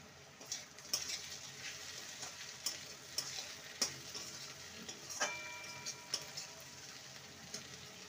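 Okra and potato fry with a spoonful of poppy seeds in a pan, giving a soft continuous sizzle broken by regular light taps and clicks of stirring, fairly quiet and close.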